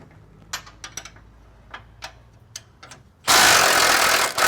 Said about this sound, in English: I can get this impact in there and get that socket back on there